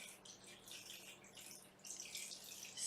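Water poured gently into a vase holding water pearls and flowers, a soft continuous splashing trickle, fairly faint and close, with no talking.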